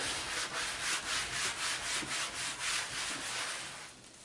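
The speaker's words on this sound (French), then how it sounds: "je frotte, mais les taches ne partent pas" Someone scrubs a painted table with soap, a close, rhythmic rubbing and swishing in about a dozen even back-and-forth strokes that fade out at the end.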